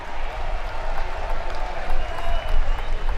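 A crowd applauds at a college baseball game between Arkansas and Murray State, a dense, steady wash of clapping and cheering from the stands lasting the whole moment.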